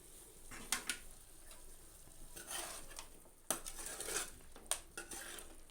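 A spoon clinks and scrapes through chicken gongura curry in a cooking pot with a faint sizzle, giving scattered metallic taps and stirring swishes, close and fairly quiet.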